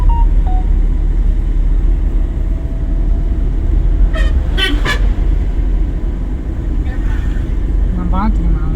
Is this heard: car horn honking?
yes